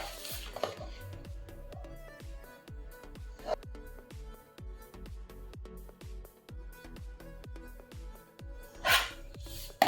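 Scissors snipping through a paper pattern for a size 30 katori blouse, a quiet, steady series of crisp cuts repeating in a regular rhythm, about two to three per second, over a faint tonal background.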